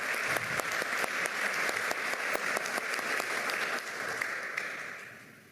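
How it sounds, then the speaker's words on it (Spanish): Sustained applause from an audience at a Defender of Democracy medal ceremony in the Government Palace, a dense even clapping that fades slowly toward the end. "Fuertes los aplausos nuevamente para el señor."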